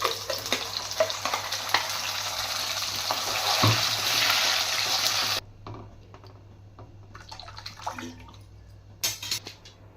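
Curry leaves and ground masala sizzle and fry in an egg curry pan, a dense crackling hiss for about five seconds that drops suddenly to quieter scattered sputters and stirring clicks, with a brief loud burst near the end.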